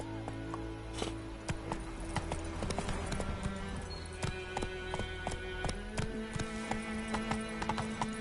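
Hoofbeats of Roach, Geralt's horse in Witcher 3, sound as a steady clip-clop of shod hooves at a running pace under ambient music, close and even for the whole stretch.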